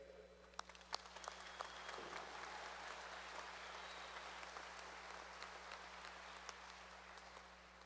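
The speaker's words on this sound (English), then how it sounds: "Please give yourselves a big round of applause" A university commencement crowd applauds steadily for several seconds, a dense patter of clapping over a low hum.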